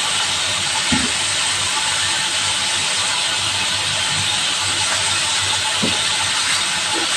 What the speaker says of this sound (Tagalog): Nag-prito na tayo ng ating beef stick.